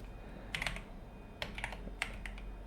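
Keys clatter on a computer keyboard during database data entry, in short bursts of soft, close taps separated by pauses over a quiet background hum.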